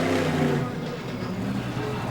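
A monster truck with a huge 575-cubic-inch engine revs at a 2002 Monster Jam event in Orlando, a loud, rough roar that dips slightly, with a commentator talking over it.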